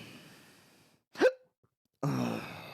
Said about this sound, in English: Got the gay hiccups.